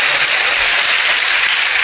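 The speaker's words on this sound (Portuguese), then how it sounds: "Dê uma salva de palmas para o Senhor Jesus" A church congregation claps loudly, a dense, steady wash of applause from many hands filling the space with no gaps.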